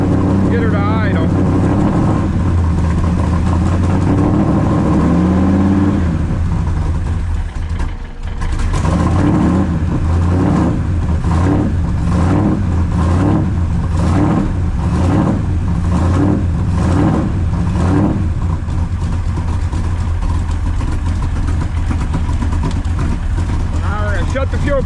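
An engine just cold-started settles into a loud, steady idle with a rough, pulsing rumble running continuously, briefly dipping once before resuming, while voices talk over it.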